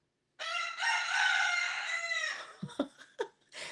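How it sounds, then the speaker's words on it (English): A rooster gives one long, loud, close cock-a-doodle-doo that rises and holds before trailing off, followed by several short, sharp clucks, with silence before the crow begins. "that roosters crow"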